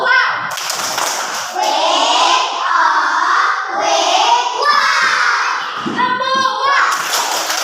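Children in a classroom shout the tepuk wow chant together, loud close voices chanting in unison with sharp bursts of group clapping at the start and end.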